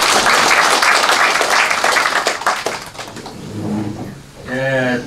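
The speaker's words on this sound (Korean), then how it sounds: "박수 한번 주시죠" Audience applause at a county town-hall meeting with residents in Gwangcheon, a dense burst of clapping filling the room for about three seconds before tapering, with a voice speaking as it fades.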